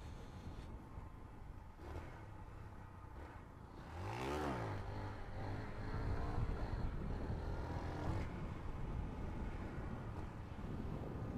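A motorcycle engine revs hard with a sharp rising-and-falling surge in the middle, then drones on unevenly, sputtering and sticking on the throttle as it struggles to lift into a second-gear wheelie. Wind rushes over it throughout.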